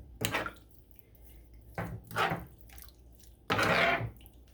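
Sauce is stirred in a pan during home teriyaki chicken meal prep, giving three separate bursts of scraping and sloshing with quiet gaps between them and no talking.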